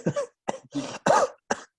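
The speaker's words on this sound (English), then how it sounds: "Oh damn, you coughing right now." A short burst of dry coughs, about five in an uneven rhythm, close and fairly loud, with brief pauses between them.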